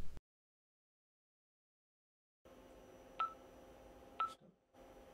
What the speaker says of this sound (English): the saved phone number is dialed